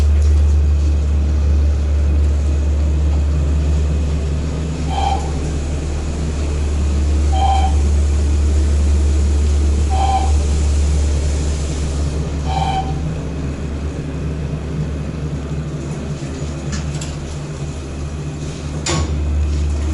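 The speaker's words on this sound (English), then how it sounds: "you're going to hear the floor passing chime" A Montgomery traction elevator hums steadily as it travels. A soft floor-passing chime sounds four times at even intervals over the low ride noise.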